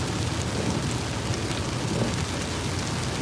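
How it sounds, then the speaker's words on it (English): Heavy rain pours onto a car while it drives near Ferndale, Maryland, a dense, loud, unbroken hiss of drumming drops from start to end. "Sometimes the rain is so hard, it's loud coming down."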